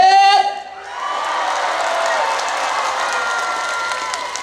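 Audience at the Sunchang jang (fermented sauce) festival bursting into sustained applause and cheering after a brief stretch of amplified voice, a broad crowd roar with clapping holding steady to the end.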